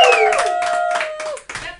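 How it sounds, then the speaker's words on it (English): A live mix crowd claps and cheers in short bursts, close and loud, with a sustained synth tone running underneath and a brief dip near the end. "applause for yourself"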